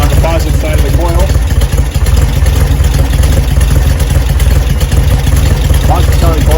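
An air-cooled VW Beetle engine with a 6-volt generator runs steadily in a garage, a loud, dense low rumble with slight unevenness throughout, and no clear rev change.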